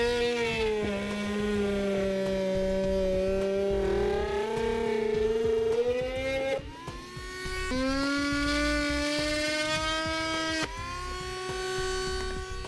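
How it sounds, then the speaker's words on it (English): A rotary tool whines at a high pitch as it cuts sections of trim during a Draw-Tite Max-Frame trailer hitch install. Its pitch rises and dips as the cutting load changes over several passes. "Now using a rotary tool or even a pair of tin snips"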